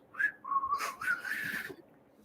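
A person whistles a short, wavering tune of a few rising and falling notes, alone and fairly quiet.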